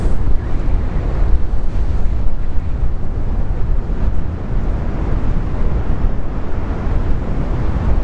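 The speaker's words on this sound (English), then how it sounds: "it's really, really windy" Strong wind on a hilltop above the sea in Cornwall buffets the microphone with a constant low roar and gusty rumble, no voices heard.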